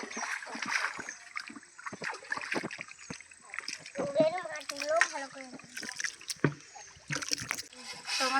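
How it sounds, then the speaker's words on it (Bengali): Prawns rinsed in village pond water in the Sundarbans, with repeated close splashes and sloshing in uneven bursts, mixed with a voice and other talk in the background. "তো পুকুরে মাছগুলো ভালো করে ধুয়ে নেব।"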